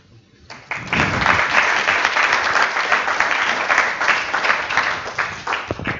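After a quiet start, a conference crowd bursts into applause for two presenters and sustains loud, dense clapping for several seconds before it tapers off abruptly at the close.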